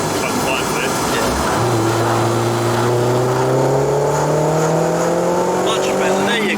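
A tuned VW Polo 6N2 1.8T 20v engine pulls hard through third gear, its rising, steady drone climbing in pitch for several seconds, loud and close from inside the car with light talk underneath.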